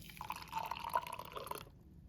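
Hot water is poured briefly into MRE instant coffee for an espresso, a soft close trickle with a rising tonal ring as the cup fills, stopping abruptly after about a second and a half.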